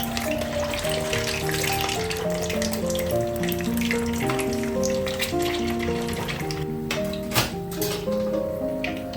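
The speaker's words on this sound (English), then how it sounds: "Now gently place the eggs into the hot oil. I'm frying all 6 together today." Six eggs deep-fry in hot oil for a Thai son-in-law eggs dish, giving a steady, close, crackling sizzle with sharp pops, all under soft background music.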